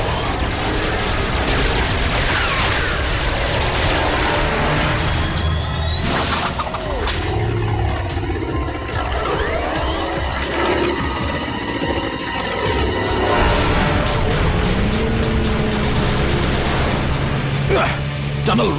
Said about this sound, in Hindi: आतिशबाजी तो शुरू हो गई